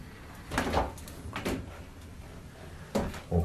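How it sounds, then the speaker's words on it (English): A cruise ship balcony cabin's shower door on a Royal Caribbean ship handled in a few soft knocks and slides, with two muffled thumps early and two more near the end over faint room hum. "Then you got shower door."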